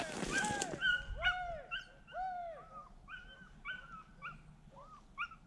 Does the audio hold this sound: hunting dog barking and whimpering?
yes